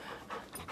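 A puppy pants in short, quick breathy bursts, fairly faint and close, with no talking over it.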